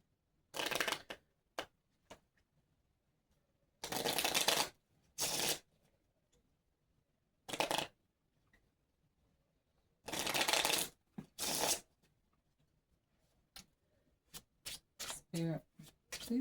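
Tarot cards being shuffled in several separate bursts, crisp riffling rustles spaced by quiet gaps, ending in a run of quick short flicks, near and fairly soft.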